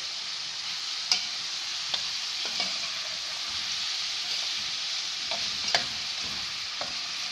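Ground beef frying in a pan, a quiet steady sizzle with occasional soft clicks and scrapes of stirring, no voices.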